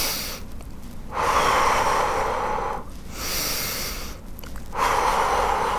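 Deep, slow breathing during a massage and stretching exercise, three long airy breaths separated by short pauses, close and loud with no talking.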